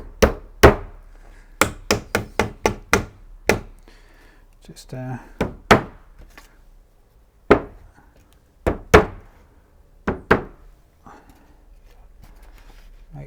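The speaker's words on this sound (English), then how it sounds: "You've just got your basic hammer here, excuse the bangs." A basic hammer banging while a canvas is stretched over a wooden frame, giving sharp, close knocks, some in quick bursts and some spaced apart, with brief talk between the blows.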